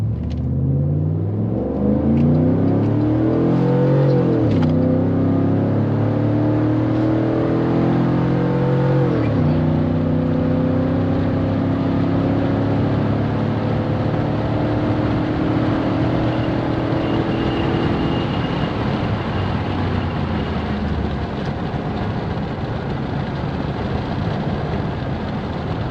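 A tuned four-wheel-drive vehicle with auto 4WD launches on a quarter-mile run, its engine roaring loud and close as it climbs through the gears with clear shift breaks, then the pitch levels off and fades into a steady rushing drone.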